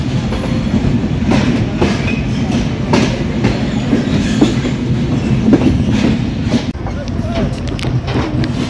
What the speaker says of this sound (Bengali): পোড়াদাহ জংশন ছাড়লো চিত্রা এক্সপ্রেস